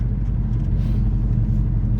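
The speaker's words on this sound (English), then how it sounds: "Slight open exhaust." A Ford Mustang with a slightly open exhaust drives along, its engine giving a continuous deep rumble that stays fairly even throughout, with no talk.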